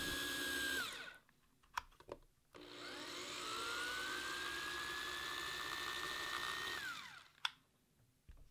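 A power drill with a 9/64 inch bit drilling plastic whines steadily in two bursts, the longer one rising slightly in pitch as it bites, with brief clicks and pauses between.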